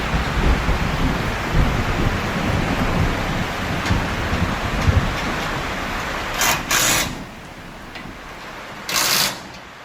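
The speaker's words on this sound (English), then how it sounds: "There it is, starting to rain, so a little muddy mess." Rain begins falling outdoors by a greenhouse, a steady broad hiss close by with a low rumble beneath, easing later and broken by a couple of short bright bursts.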